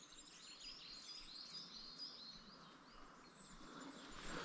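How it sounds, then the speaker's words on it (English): Birds sing and chirp steadily in open countryside, faint and distant over a soft background hiss, with no talking. "Listen to the birds."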